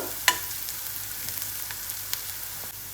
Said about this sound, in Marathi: आता आपल्याला चांगलं परतून घ्यायचं आहे याचा कच्चा वास जाईपर्यंत।